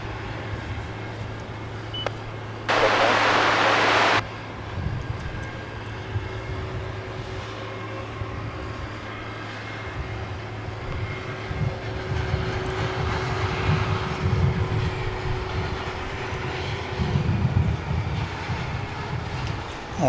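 A distant airliner on approach to DFW International Airport, a low steady engine rumble that swells gradually toward the end, with a brief loud burst early on and no voices.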